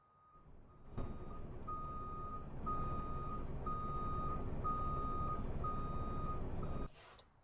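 A bus in a transit video game backs up with a steady series of electronic reversing beeps over a loud, continuous engine drone, ending abruptly after several seconds.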